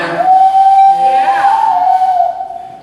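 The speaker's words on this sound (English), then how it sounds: "does anybody remember Granddad's whistle?" A family whistle, one sustained steady tone lasting a couple of seconds with a slight rise and fall in pitch, loud and close, with no talking.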